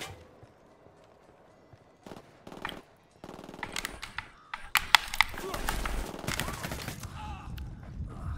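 Bursts of gunfire in Ghost Recon Wildlands, starting with scattered shots and building into dense, overlapping automatic fire and impacts over the second half, loud and close.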